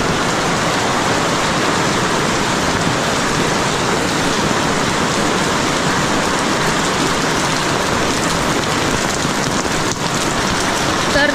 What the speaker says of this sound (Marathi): पाऊस अजूनही थांबलेला नाही आहे इकडे पण भरपूर आहे